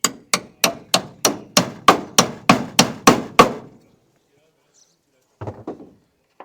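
Gutter brackets on a metal roof take about eleven quick, evenly spaced hammer taps close by, then a short pause and a few fainter knocks.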